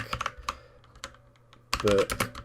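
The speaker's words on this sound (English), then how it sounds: "we're going to start typing" Computer keyboard keys click as text is typed into a box in Photoshop: a few scattered, quiet taps, then a quick dense burst of keystrokes near the end, close and alone.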